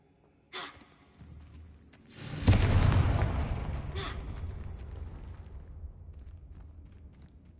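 A Confringo fire spell bursts in Hogwarts Legacy, a short crackling cast followed by a deep booming explosion that rumbles and slowly fades over several seconds.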